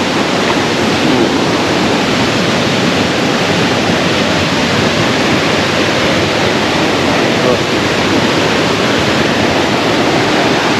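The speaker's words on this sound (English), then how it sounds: "whenever I hear that sound of river water" A river flows in a dense, constant rush of water. The sound is loud and close, unbroken for the whole stretch, and no voices can be made out over it.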